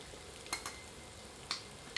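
Onions frying quietly in a pan for a yogurt chicken curry, a faint low sizzle broken by a few sharp clicks and scrapes of a ladle against the pan.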